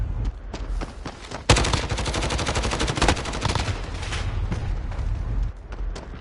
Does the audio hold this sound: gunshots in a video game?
yes